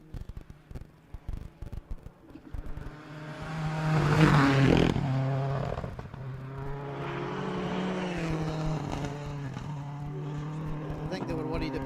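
Rally car on special stage SS1 Craik, approaching with popping and crackling, then a loud passing surge of engine noise that continues as it revs away, with people talking nearby.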